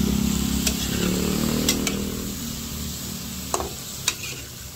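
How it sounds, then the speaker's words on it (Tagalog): Chopped bottle gourd sautéing in a pan as it is stirred, a soft sizzle with a low rumbling hum early on and a few sharp clinks of a spatula, close and fading slightly toward the end. "At akin lang pong hahaluin."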